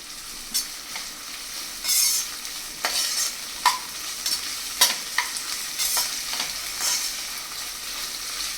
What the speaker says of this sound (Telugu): ఇప్పుడు వీటన్నిటిని బాగా మిక్స్ చేసుకోవాలి